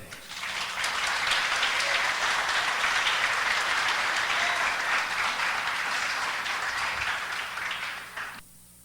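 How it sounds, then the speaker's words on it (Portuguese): A church congregation applauds during worship, a loud, sustained wash of clapping lasting nearly nine seconds before tapering off abruptly. "Pode aplaudir o Senhor."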